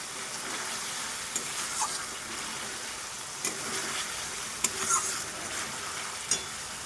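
Fish and potatoes with spices and dried red chillies sautéing in a pan, a steady close sizzle with a few sharp pops and spatula clinks scattered throughout.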